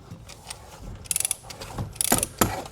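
A torque wrench ratchets a bolt tight during Tesla Model Y windshield paint protection film work, giving short bursts of close, crisp clicks with a few brief pauses between the strokes.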